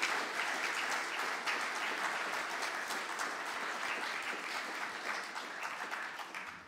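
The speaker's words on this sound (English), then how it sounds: "can we just honour those people and give them a clap as well?" A church congregation at Thornhill Church in Cardiff claps at a building anniversary service, steady crowded applause from many people that runs on evenly with no talking over it.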